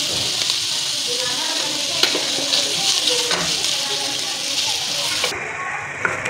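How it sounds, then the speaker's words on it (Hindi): Ginger garlic paste frying with lightly browned onions for a minced mutton karahi, producing a loud, continuous close-up sizzle with faint stirring clicks throughout. "इसे डाल के फ्राई करना है अच्छे से।"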